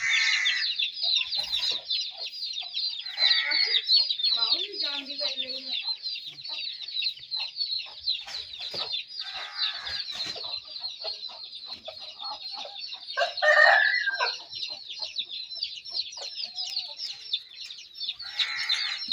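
An Aseel rooster crows repeatedly in shrill, high bursts, with softer clucking scattered between the calls, fairly close and with no voices.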